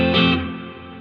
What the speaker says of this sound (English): this plate reverb is much more present than